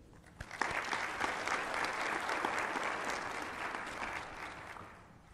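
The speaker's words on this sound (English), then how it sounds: "Please join me in giving a final round of applause" Conference audience at the official opening of the 2016 TWAS Conference in Kigali giving a sustained round of applause, dense even clapping that swells quickly and slowly tapers off at the end.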